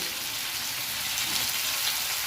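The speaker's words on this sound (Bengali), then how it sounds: "এবার ভালো করে একটুখানি ফ্রাই করে নেবো" Raisins and whole spices frying in oil in a pan for a Bengali rice-and-cabbage dish, a steady close hiss and sizzle with no talk.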